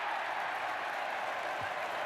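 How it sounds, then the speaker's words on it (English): A cricket crowd at a Pakistan versus Australia match cheers and applauds a catch in a dense, steady wash of clapping and crowd noise that holds evenly throughout. "The crowd love it, sort of."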